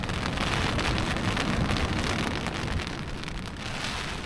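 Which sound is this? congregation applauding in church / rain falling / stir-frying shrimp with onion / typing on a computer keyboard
rain falling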